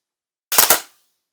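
A single loud mechanical shutter clack from a Pentax 67 medium format camera, sharp and close, with a heavy thump and brief rattle that dies away within half a second.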